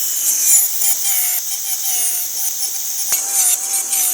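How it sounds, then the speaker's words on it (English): A grinder cleaning up the cut edge of a shower tile, a loud steady grinding with a thin whine running throughout and one brief knock partway through. "Now I can just grab the grinder and just clean it up a little bit"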